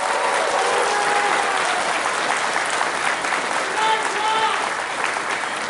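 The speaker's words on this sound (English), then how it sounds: "Can we have a big round of applause for these people?" Steady, loud applause from an audience at a Megaplex staff gathering fills the whole stretch with dense clapping, with a few scattered voices and whistle-like tones mixed in.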